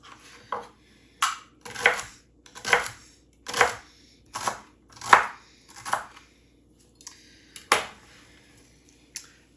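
Celery being chopped with a knife on a cutting board for chicken and dumpling soup, roughly eight crisp, close knocks in an uneven rhythm with short pauses between cuts.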